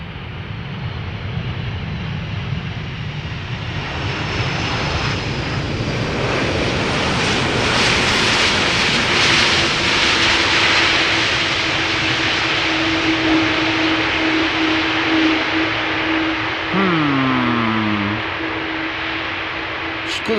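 A jet airliner landing at Amsterdam Schiphol Airport, a steady loud engine roar with broad rushing noise that swells and peaks mid-pass, then a falling whine as it decelerates, with faint voices beneath.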